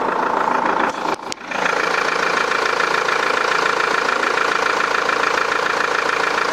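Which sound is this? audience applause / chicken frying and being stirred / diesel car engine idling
diesel car engine idling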